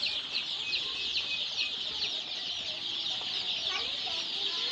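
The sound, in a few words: local chicken chicks peeping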